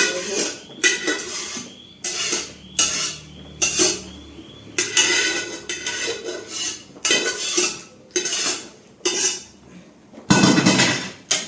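Pav bhaji vegetables being mixed in a metal pan, with a spoon clanking and scraping against the pan in about a dozen sharp, close bursts separated by brief pauses, and no talking.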